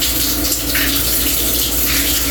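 Water runs steadily from a tap in a newly tiled bathroom, a loud, close, continuous gushing with a constant hum beneath it.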